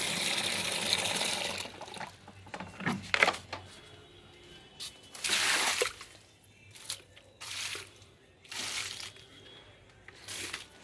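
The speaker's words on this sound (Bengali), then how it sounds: "আখ গাছে কিন্তু একটু বেশি জল লাগে আর একটু দিয়ে দিই মনে হচ্ছে আর একটু লাগবে" Water poured by hand onto the base of a sugarcane plant in a sunny home garden, arriving in several splashing bursts with pauses between them, at close range with no talk.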